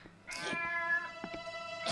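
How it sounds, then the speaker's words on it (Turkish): A cat gives a long, drawn-out meow that starts abruptly and holds steady for over a second, followed by a brief second call rising at the end, close and fairly loud with no talk. "bu kedi de nereden çıktı şimdi?"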